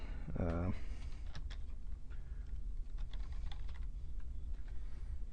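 Computer keyboard keys typed in short scattered clicks while text is entered in graphics software, fairly faint under a steady background hum, with a brief voice-like tone near the start.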